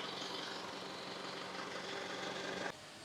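An Isuzu D-Max 3.0 Hi-Lander automatic pickup's diesel engine idles steadily with a smooth, even hum, heard up close and without talk, before the sound drops slightly near the end.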